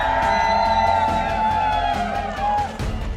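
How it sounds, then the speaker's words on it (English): A crowd at a university robotics competition elimination match cheers and whoops loudly, a dense sustained roar with shouts rising over it before the noise tapers slightly near the end. "let's hear it from the crowd"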